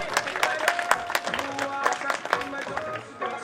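Audience at a Prajapati talent honour ceremony in Bidasar claps to welcome a guest to the stage, a burst of scattered, uneven hand claps with a voice speaking over and around them.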